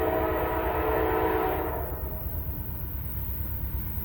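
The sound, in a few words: train passing on super elevated curve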